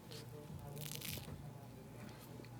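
Biting into a crunchy tortilla chip loaded with guacamole and pico de gallo, a brief faint crunch with soft squishy chewing close to the mouth in a quiet restaurant setting.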